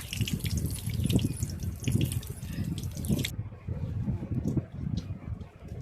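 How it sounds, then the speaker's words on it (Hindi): Aloo paneer tikka deep-frying in hot oil in a kadhai gives a steady, dense sizzle and crackle that stays loud throughout, with a brief voice in the background. "इसको उलट पलट के अच्छी तरह से फ्राई कर लेना है"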